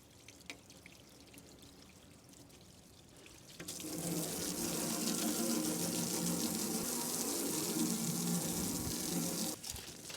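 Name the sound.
rinsing a window with running water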